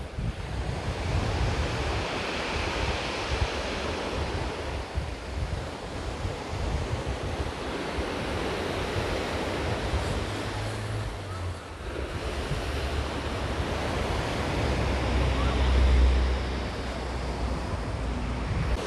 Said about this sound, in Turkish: 2 saniye susuyorum ve denizi dinleyin.